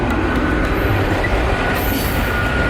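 A train rumbles past at close range, loud and continuous, with rolling wheel noise and faint squeals, no talk.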